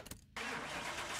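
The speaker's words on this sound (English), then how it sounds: "let's get this one started and see what the Escort sounds like with the Coyote engine" A Ford Coyote V8 swapped into a Mk1 Escort cranks briefly in Car Mechanic Simulator, then fires and settles into a loud, steady idle rumble.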